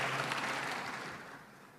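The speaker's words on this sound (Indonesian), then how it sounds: "Tepuk tangan." Applause at an Indonesian youth leadership talk, a soft, steady wash of clapping that fades gradually as it dies away.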